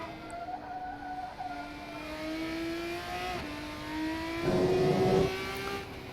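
An open-wheel race car on the Spa Francorchamps circuit in a racing video game, its engine whining and climbing steadily in pitch through the gears, loud and close, with a gritty surge near the end.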